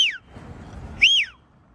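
Two sharp, high-pitched whistles from a person nearby, each a quick rising-then-falling note, separated by a short pause of quiet background.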